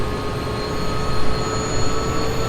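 A helicopter engine opened to full throttle in a desktop crop-dusting flight simulator, a steady loud mechanical drone with a constant whine running unbroken throughout.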